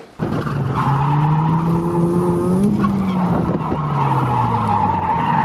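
A BMW E36 drift car skids in a tandem run, a loud sustained tire squeal with a droning engine whose pitch wavers up and down, kept up steadily without a break.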